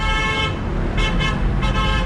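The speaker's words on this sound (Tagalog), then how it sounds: "Sobra mag put-put busina." Car horns toot repeatedly in heavy traffic on EDSA during road rebuilding works, several short honks over a constant roar of road noise.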